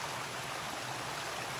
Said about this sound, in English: So there's been lots of streams today, very similar to this one.